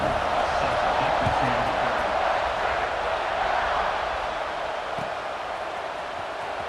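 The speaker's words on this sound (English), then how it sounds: "this crowd is buzzing after that last score" Stadium crowd in the College Football 26 video game gives a steady, dense roar that eases slightly toward the end, with a commentator talking over it after a score.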